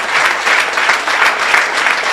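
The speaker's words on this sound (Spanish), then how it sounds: "Un aplauso a Cristo." Church congregation applauding during a sermon, a loud, sustained burst of many hands clapping close around, with no voices over it.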